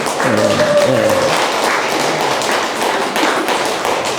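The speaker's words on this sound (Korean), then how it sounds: "아니면 크게 박수를 쳐서라도 한번" Loud, sustained clapping from a temple audience at a Buddhist dharma talk at Silsangsa on Jirisan, a dense crowd of hands filling the whole stretch, with a brief voice near the start.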